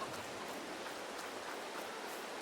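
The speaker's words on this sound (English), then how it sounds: "let's see when this rain is scheduled to be done" Steady rain in Farming Simulator 22, a soft, even hiss with faint patter that stays constant throughout, quiet and with no voices.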